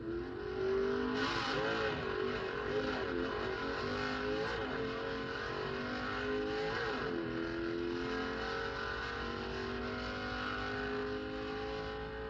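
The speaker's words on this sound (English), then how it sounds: "These cars are capable of covering the quarter mile in less than 10 seconds." Pro Stock drag racing cars, a Plymouth Duster and a Barracuda, roar at the 1970 NHRA World Finals. Loud, sustained engine noise with rising and falling pitch as they accelerate runs throughout, with no talking.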